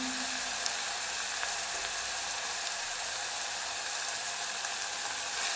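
Ginger and garlic frying in a pan give a steady, even hiss of sizzling oil that runs throughout without pause or voices.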